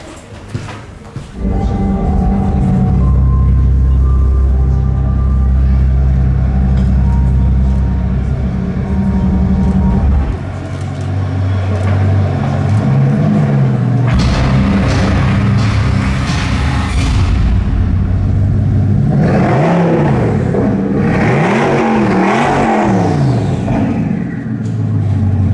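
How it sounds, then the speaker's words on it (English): Bugatti Chiron with a W16 8-litre 1600 horsepower engine, loud nearby idling and revving with rising and falling surges, a deep steady rumble throughout and sharp blips of throttle near the end. "So this is the W16 8-litre 1600 horsepower engine"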